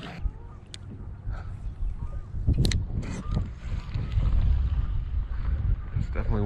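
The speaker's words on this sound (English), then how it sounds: "It's definitely windier over here." Wind gusts buffet the microphone while out on a fishing boat on a lake, a low, uneven rumble that swells and fades, with scattered knocks and a voice briefly heard.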